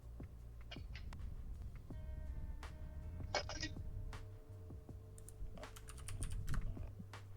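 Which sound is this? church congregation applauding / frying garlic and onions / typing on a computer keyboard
typing on a computer keyboard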